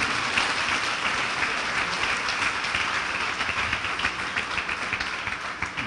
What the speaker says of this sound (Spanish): ¿Cuándo darle un aplauso fuerte a Jesús?